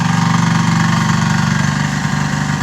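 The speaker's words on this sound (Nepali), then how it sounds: "ल हेर्नुहोस् भतिजेको त ट्र्याक्टर जोतिरहेछ" A tractor ploughs a field, its engine chugging loudly and close with a steady, pulsing rhythm and no talk.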